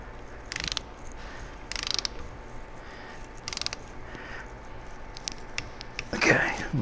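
A ratcheting torque wrench works Miata differential bolts, giving three or four short clustered clicking bursts at close range, spaced about a second apart, with a rustle of handling near the end.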